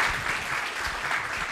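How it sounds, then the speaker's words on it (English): An audience claps after a panel discussion on the Indian economy, dense, even applause, close and continuous. "I urge everyone to join me in giving them an applause"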